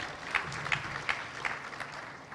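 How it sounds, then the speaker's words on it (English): An audience applauds Kushal at a public gathering in Mombasa, a moderate, fairly thin patter of clapping with a few louder claps standing out at a steady pace, with no voices over it. "One more round of applause for Kushal."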